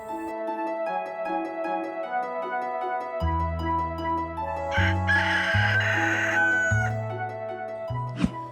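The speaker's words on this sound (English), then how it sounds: "where we keep our egg-laying chickens today" A rooster crows and hens cluck in a farm hen house over a steady backdrop of tonal music with a stepping bass line, fairly close and moderately loud.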